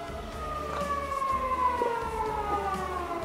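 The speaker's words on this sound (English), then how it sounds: "Sirens going off in Japan." A wailing siren in Japan sweeps slowly down in pitch, loud and steady throughout, with a low rumbling background and no talking.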